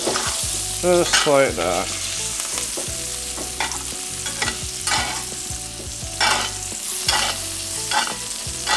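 A wagyu steak sizzles steadily in a hot pan while being basted, with bright crackling bursts and spoon scrapes over a continuous frying hiss, close and loud, and no talking.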